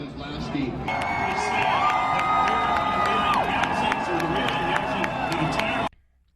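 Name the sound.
crowd cheering with joy and relief after a car crash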